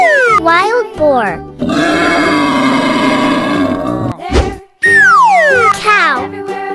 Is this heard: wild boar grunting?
yes